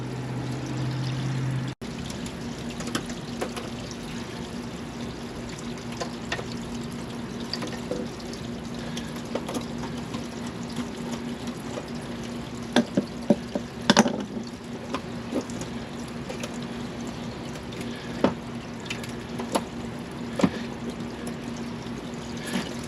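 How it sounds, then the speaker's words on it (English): Water draining steadily out of a hot tub spa during a heater replacement, a continuous pouring, trickling flow with a few small clunks, no talking. "Got to drain the water, so I am draining the water."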